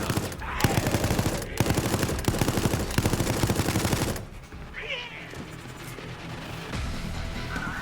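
Rapid bursts of automatic gunfire from a deployed gun in the video game Resident Evil Resistance ring out loud and steady for about four seconds, then stop, leaving quieter game sounds and a brief cat-like cry.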